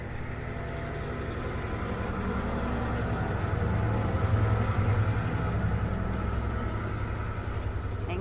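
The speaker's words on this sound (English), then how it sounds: "I'll wait for the train to go." A passing train rumbles steadily for the whole stretch, a loud, continuous low roar of engine and rolling wagons that swells slightly in the middle and carries on without any voices.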